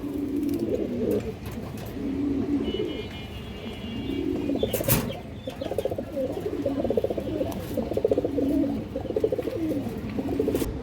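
Pet pigeons in a loft cooing in soft, repeated rolling calls, close by and fairly quiet, with a brief flutter or knock midway and no talking.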